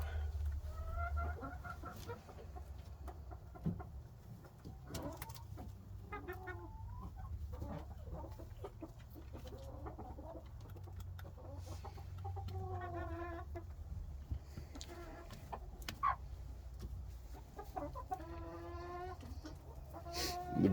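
A small broody silkie hen sits on a clutch of sixteen eggs, giving repeated low clucks and short throaty calls in uneven bursts, close by over a steady low hum, with another chicken's call now and then.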